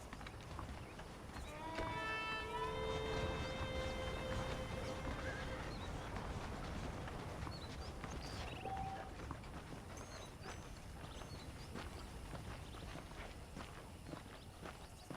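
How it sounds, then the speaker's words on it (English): A horse whinnies loudly, then hooves clip-clop steadily on hard ground, with soft ambient outdoor sound throughout, in the video game Red Dead Redemption played on Android. "The horses are saddled up over here."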